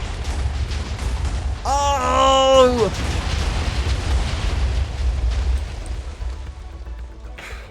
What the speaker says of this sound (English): Let's see what happens when I launch all of the explosions in here.